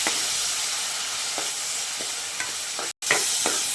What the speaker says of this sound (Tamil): சேர்த்து எல்லாத்தையும் நல்லா வதக்கிக்கலாங்க